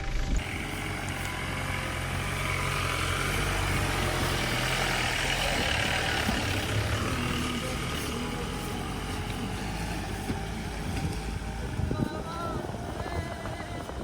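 A jeep climbs a hill road toward Mattumala in Nelliyampathy, its engine a continuous loud rumble close by, with a voice talking intermittently over it.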